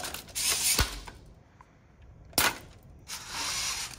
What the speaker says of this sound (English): I should just be able to raise and lower the lift and it'll score the ring